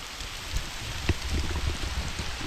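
Rain patters steadily onto a rice field, a dense wash of drops with a few louder splashes near the middle and no voices.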